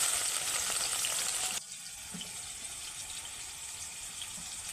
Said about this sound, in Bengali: তেলটা ভালোভাবে গরম করা হয়ে গেছে, এইবার দিয়ে দেব ধুয়ে রাখা আলু।